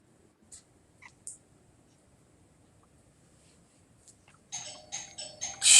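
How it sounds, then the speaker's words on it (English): A home doorbell, rung by neighbouring children during a live stream, gives faint, brief chime tones over a quiet room. A louder ringing burst comes near the end. "Now the kids next door are ringing the doorbell."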